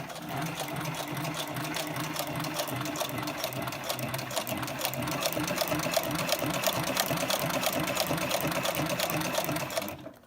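A SewPro 441-Pro sewing machine stitches tough Biothane strap material, a steady rapid mechanical chatter that runs evenly and close, picking up slightly midway before stopping abruptly.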